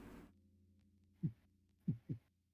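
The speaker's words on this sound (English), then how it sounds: "It's just like the sound of your heartbeat." Low, soft heartbeat thumps heard alone over a quiet low hum, one beat followed by a quick double pulse.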